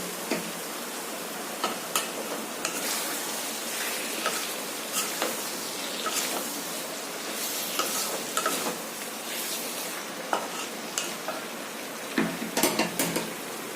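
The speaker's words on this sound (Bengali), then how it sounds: "মশলা ধোয়া জল দিয়ে এটাকে ভালো করে কষতে থাকবো" Potol and prawn masala is stir-fried in a pan with a little water, giving a soft steady sizzle broken by repeated scraping and stirring strokes of a spatula against the metal, with no one speaking.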